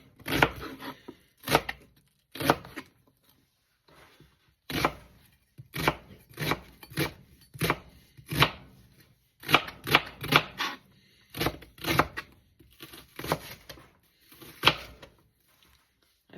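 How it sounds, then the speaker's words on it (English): An onion is diced with a knife on a cutting board, a string of crisp, irregular chops arriving in quick clusters and separated by brief pauses, close and clear with no talking. "I'm going to peel and dice 1 onion."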